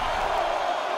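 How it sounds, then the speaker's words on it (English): Crowd in WWE 2K23 roars loudly and continuously during a WarGames three-on-three match between The OC and Judgement Day, a dense wall of cheering with no break. "The sound of this crowd is deafening, and he's asking for more."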